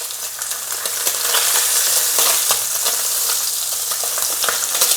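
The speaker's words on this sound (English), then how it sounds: "Now I am going to turn the heat up quite high, and I'm going to flip these over." Salmon fillets, seasoned on both sides, sizzle steadily in a pan over high heat just after flipping, a loud close hiss of frying with faint crackles and scrapes and no speech.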